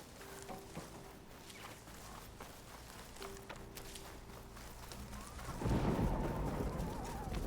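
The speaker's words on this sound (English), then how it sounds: "Sounds like there's a storm nearby." Distant thunder rolls from a nearby storm in the game Horizon Forbidden West, a low rumble that swells toward the end over faint footsteps and steady ambience.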